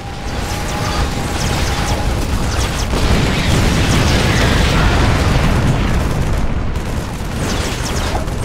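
Experimental warhead detonating in StarCraft 2: Heart of the Swarm, a loud, sustained roaring blast that rumbles and crackles continuously for several seconds with no speech over it.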